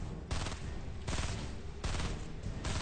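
Rapid bursts of close, loud gunfire in a Fortnite battle royale match, several volleys in quick succession with brief gaps between them and no talk over them.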